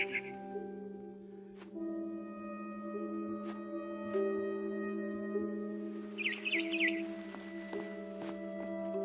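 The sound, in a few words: barn swallow chirping outside window, from video game What Remains of Edith Finch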